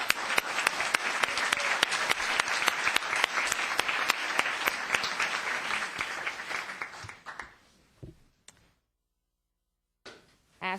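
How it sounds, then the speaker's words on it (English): A council meeting audience gives a special guest a sustained round of applause, dense and steady at first, then thinning out and dying away into silence, with a brief burst of sound at the end. "One more round of applause for this special guy"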